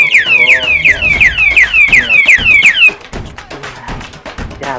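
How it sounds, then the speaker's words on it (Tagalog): A motorcycle anti-theft alarm blares loud, rapid repeating descending electronic chirps. The alarm then cuts out and tapping and handling noises continue, with a voice speaking over it. "yun yung extent na nitong alarm na to"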